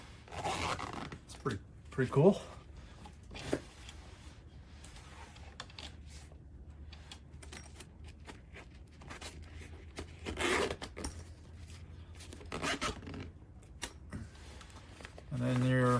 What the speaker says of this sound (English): This just zips.